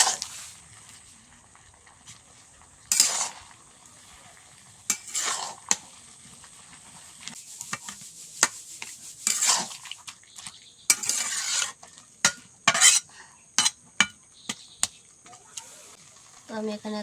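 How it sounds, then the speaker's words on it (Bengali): A spoon stirs a boiled pumpkin and cabbage curry in a pan, with scraping strokes and sharp metallic clinks in irregular bursts over a faint low sizzle, and quieter gaps between strokes. "সিদ্ধটা হয়ে গেছে, নাড়িয়ে নেব।"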